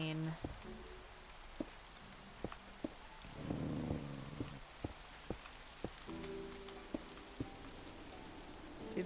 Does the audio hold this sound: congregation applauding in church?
no